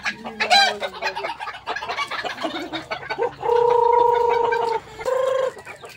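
Chickens cluck and call in a run of squawks and gargling cackles, with sustained harmonic crowing-like calls in the second half, loud and close, with no talk over them.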